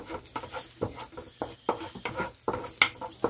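Vegetables and garlic sizzle and crackle in a hot pan, with regular scraping strokes of a utensil stirring them.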